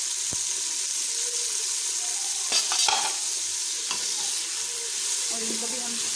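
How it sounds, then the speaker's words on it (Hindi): Tomatoes, green chillies and garlic-ginger paste fry in a pan while being stirred, a steady close sizzle broken by a few spoon scrapes and knocks against the pan. No one speaks. "और इनको भी हम अच्छी तरह से जो है वो भून लेंगे।"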